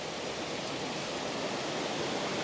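A waterfall in Wales gives a steady broadband rush of falling water, continuous and fairly faint, with no voices over it.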